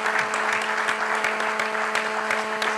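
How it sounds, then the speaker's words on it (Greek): An audience claps warmly for a lecture speaker after a talk on propaganda during the Occupation, a steady, dense applause that fills the room without pause. "την χειροκροτάμε θερμά."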